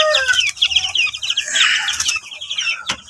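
Young chicks chirp and peep busily at close range as they are let out onto the ground of their new coop on a Philippine chicken farm, with overlapping high cheeps and a few clucks.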